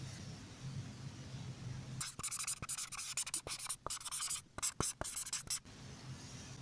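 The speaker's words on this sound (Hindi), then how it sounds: "यहाँ पर प्रॉपर्टी का नेम लिख लेते हैं" Marker scratching out a property name on a classroom whiteboard during a number-system maths lesson, a run of short squeaky strokes with brief pauses between letters, close and clear against a quiet room.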